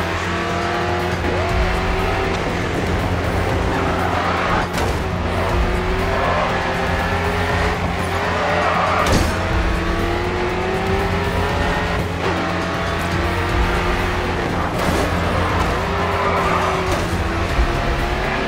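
Race cars roar continuously in the Grid 2 racing game, engines rising and falling through gear shifts with tire squeal and skidding as one car spins out ahead, loud and sustained throughout.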